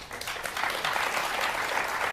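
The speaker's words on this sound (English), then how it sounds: "Don't clap. Just stop clapping. Why are you clapping?" A studio audience on a BBC television show applauds steadily, a dense, continuous wash of clapping that holds at moderate loudness for about two seconds and then cuts off abruptly.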